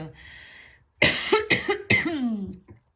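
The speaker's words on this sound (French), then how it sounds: "Est-ce que je vous casse les oreilles avec ma toux?" Three sharp, close coughs in quick succession after a short stretch of quiet background noise.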